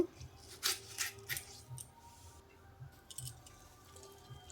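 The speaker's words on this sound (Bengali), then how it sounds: "এইভাবে আলু কেটে নেব লম্বা লম্বা করে এইভাবে কেটে মাঝখান দিয়ে আর একটা ভাগ করে নেব" A knife cuts potatoes lengthwise into long pieces, splitting each down the middle, giving a handful of close, crisp slicing taps and clicks in an irregular rhythm, fairly quiet, with no talking.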